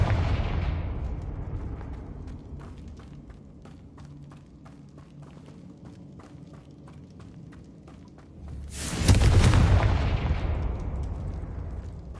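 Spell explosions from the Hogwarts Legacy video game: a rumbling blast bursts in near the end, loud and close, after a stretch of quieter rapid cracking impacts over low game rumble.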